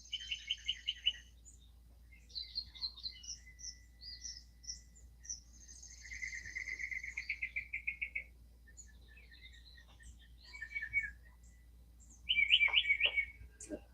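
Several birds chirp and sing at dawn in short bursts of high tweets and trills from a few directions, mostly faint to moderate, over a quiet low hum with no talk.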